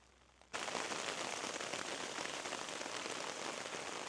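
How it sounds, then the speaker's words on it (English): Rain suddenly begins pattering onto a tarp at a woodland camp, cutting in after half a second of near silence and then holding as a dense, even hiss of drops close by. "Started raining as well."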